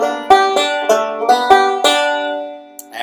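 A banjo plays a short Cripple Creek phrase, sliding on the third string, of about six bright, twangy plucks in a steady rhythm, the last notes ringing out, close and clear with no talking.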